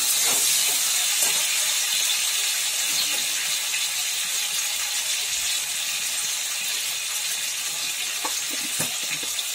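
Chopped tomatoes cook in a pan, giving a steady, fairly loud sizzling hiss throughout with faint crackles and small pops, and no talking.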